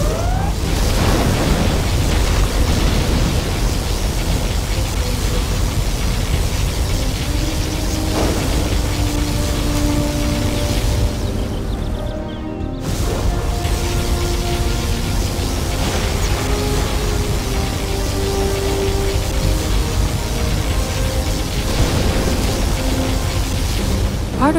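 A sustained roaring, rumbling blast from the particle cannon in Command & Conquer Generals Zero Hour, loud and continuous for over twenty seconds with a brief dip midway and faint tonal game sounds layered on top.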